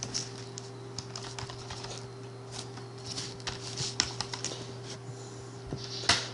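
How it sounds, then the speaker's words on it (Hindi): Keys clack in quick irregular bursts on a computer keyboard in an office setting, with a steady electrical hum underneath and no talking. "मैं इस तरह से टाइप कर देता हूँ यहाँ पर।"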